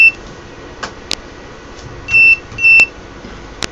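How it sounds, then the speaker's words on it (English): An electronic buzzer on an ESP32 circuit gives two short, shrill beeps close together, with faint clicks and thin tonal blips scattered around them over a quiet electrical hum. "And the buzzer also says, yes, there's something definitely going on."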